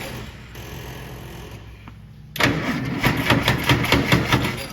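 Tucker '48 car, number 1013, starting for the first time in decades: a quiet cranking whir, a short pause, then a louder rough engine catching and running with a rapid pulsing rhythm.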